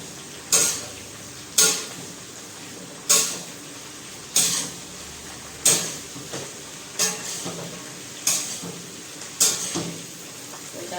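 Okra stirred in a pan: about eight evenly spaced scraping strokes of a spoon against metal, each a brief rasp roughly a second apart, close and fairly loud with no talk.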